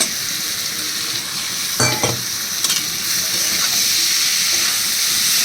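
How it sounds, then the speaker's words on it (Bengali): Moong dal tipped into a sizzling pan of ghee tempering for vegetarian dal with papaya: a loud, steady, hissing fry with a short rattling clatter as the lentils go in, close up and with no talk. "এবার আমি এর মধ্যে দিয়ে দিচ্ছি এই মুগ ডালটা।"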